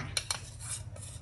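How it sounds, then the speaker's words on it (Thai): Metal utensils clink against a pan on a stovetop as fried garlic oil goes in, a few sharp close taps and scrapes spaced out over a quiet kitchen background. "ตั้งกระทะเปิดเตาใส่น้ำมันกระเทียมเจียวลงไปค่ะ"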